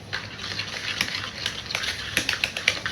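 A Danish dough whisk stirs pumpkin pie filling with brown sugar in a bowl, making close scraping, clicking strokes in an irregular rhythm, with no talk.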